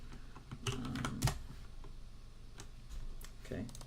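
Computer keyboard keys clatter in quick irregular bursts as Vim shortcuts are typed, close and moderately loud, with short pauses between clusters of keystrokes.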